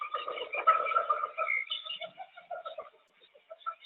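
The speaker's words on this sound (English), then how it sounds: "So you can hear there's bird song and noises from, I think it's supposed to be from the jungle and so on." Recorded bird song and jungle sounds from Earth: overlapping chirps, coos and calls in irregular bursts, moderately faint, with brief pauses between phrases.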